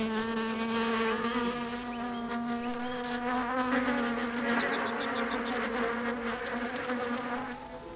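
Honeybees buzz close by around a bowl of sugar water set on blue card, a dense, continuous droning hum of several insects with wavering pitch as they hover and move about, no voices present.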